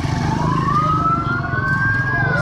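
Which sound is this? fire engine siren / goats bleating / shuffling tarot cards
fire engine siren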